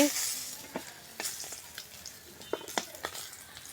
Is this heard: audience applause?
no